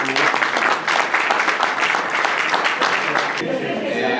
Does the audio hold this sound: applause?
yes